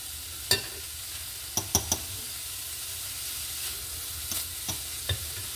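Sausage and vegetables frying in margarine in a pan, with a steady close sizzle broken by several sharp clicks and scrapes as the food is pushed around.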